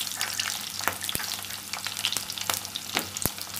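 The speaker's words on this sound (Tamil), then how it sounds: "போட்டு நல்லா வதக்கிக்கலாம்." Dried chili, shallots and garlic sizzle in hot oil in a pan, a steady close frying hiss broken by sharp clicks and scrapes as they are stirred.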